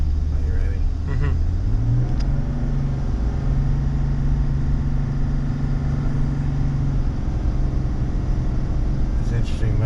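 Chevy 1500 EcoDiesel pickup towing a boat accelerates with a steady, loud diesel drone that climbs in pitch as it gains speed, heard from inside the cab.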